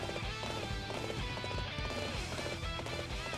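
Rapid, steady hoofbeats of a galloping horse in the video game Dynasty Warriors 8: Xtreme Legends, thudding continuously over a dense backdrop of battle noise and music.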